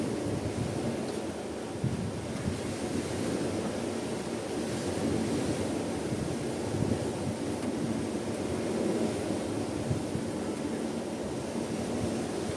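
Strong wind roars and buffets continuously, with low rumbling gusts battering the microphone throughout.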